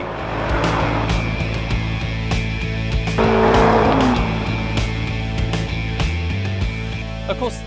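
A Jaguar sedan accelerating hard in a 0 to 60 run, a steady loud engine roar with rising revs and a brief tire squeal, heard close and alone.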